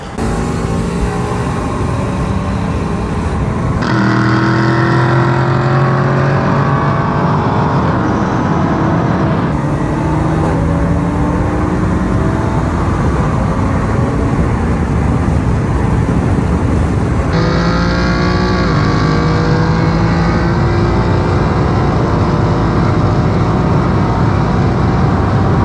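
A 2019 VW GTI with a hybrid Vortex turbo running on E85 pulls hard from inside the cabin, its engine note climbing through several gears with brief dips at each shift, loud and continuous.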